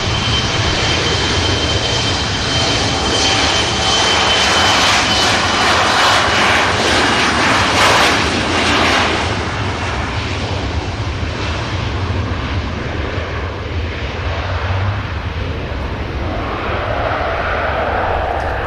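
KLM airliner taking off on the runway at Manchester Airport, a loud, steady jet engine roar that holds strongly throughout with a broad rushing quality and some wind buffeting, easing only slightly toward the end.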